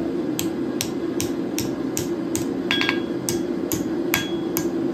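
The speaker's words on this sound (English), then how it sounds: "now I'm gonna go ahead and forge out the scroll in the end" A hammer forges a steel leaf hook on an anvil. About a dozen sharp metallic strikes ring out at an even pace over a low background hum.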